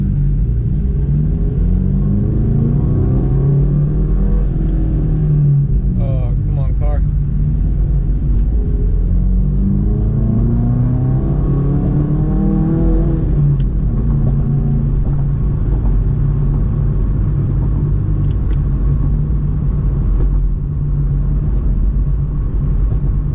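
A 2017 Subaru WRX on stock tune with a Boomba blow-off valve, accelerating on the road: deep, loud in-cabin engine rumble with rising pitch sweeps through gears, brief sharp chirps and whooshes between shifts.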